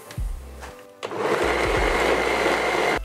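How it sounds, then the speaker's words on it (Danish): A blender purees hummus with garlic, lemon juice and lemon zest: a few low thumps, then from about one second a loud, steady, full whir that runs without break to the end. "Og så blander vi."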